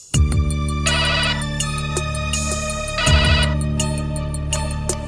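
A phone rings loudly with an incoming call, a bright electronic ringtone melody of repeating tones and chimes in a steady looping pattern, close and clear with no talking over it.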